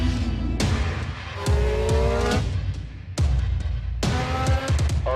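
A Red Bull Formula 1 car in a racing simulator on a virtual lap of a circuit, its engine loud and close, revving hard and rising in pitch with each upshift, repeating the climb several times.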